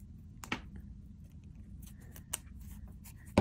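Scissors snip through the plastic teeth of a separating zipper that is being shortened, a few sharp, close clicks spaced out over quiet background noise, with a louder snap at the end.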